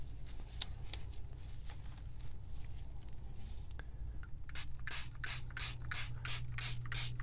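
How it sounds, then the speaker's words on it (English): Dye sprayed onto fabric through a stencil for coffee and avocado dyeing, heard as repeated short hissing bursts from a spray bottle, faint at first and then louder, closer puffs in a quick rhythm over a steady low background hum. "So I am spraying a little more than I normally would."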